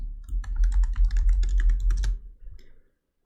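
Rapid keystrokes clatter on a computer keyboard as a Cordova command is typed, a dense close burst of clicks lasting about two seconds, then a few softer taps before stopping.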